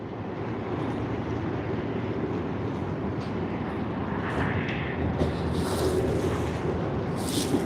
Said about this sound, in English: CX110 getting ready for departure from runway 16R